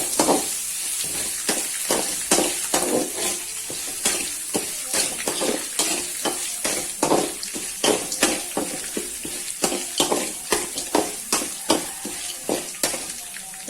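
Ginger and garlic crushed with the skin on sauté in oil in a pan, a crackling sizzle under a quick, regular rhythm of spatula scrapes and clinks, close and steady with no speech.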